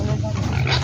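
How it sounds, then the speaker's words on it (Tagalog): Pig squealing loudly and steadily up close while being weighed for sale, a short, unbroken, strained cry. "Baboy number 4."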